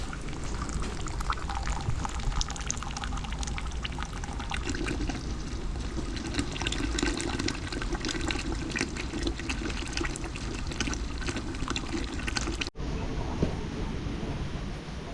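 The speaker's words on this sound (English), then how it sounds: "that's our first pour of syrup" Maple syrup pours off a wood-fired evaporator pan with a steady liquid trickle under the roar of a hot, cranking fire and boiling sap, continuous and close. It is cut by a brief break near the end.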